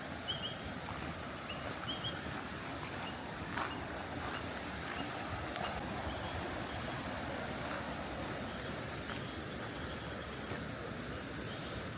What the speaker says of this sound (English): you guys can hear that's the sound of water.